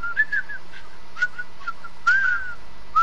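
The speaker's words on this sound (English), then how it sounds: "Whistle for me, son." A person whistles a short melody in clear, bright phrases with small pauses between notes, close and fairly loud in a quiet setting with faint background hum.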